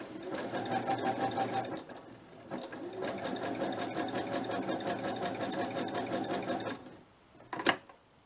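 A sewing machine runs steady stitches on fabric close by, with a brief slowdown near the start, then it stops and a short clatter follows.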